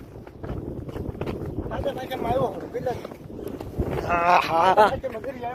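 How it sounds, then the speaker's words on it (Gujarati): Strong wind on a seashore where tractors come down to load sand, buffeting the microphone with a steady low rumble beneath close, continuous talking. "પવન બહુ છે"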